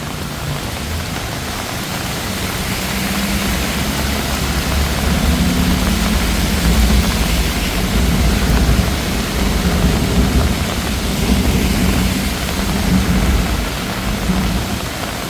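Heavy rainy-season rain pours down steadily on a Bangkok street, a loud, continuous wash of noise with a low rumble beneath it and no break.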